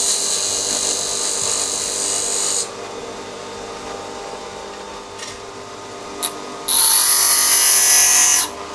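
Hard spring-steel piano wire is pressed against a grinder for a spark test, a sharp high-pitched grinding burst after a steady motor whine, with a brief lull and small clicks between, no talking.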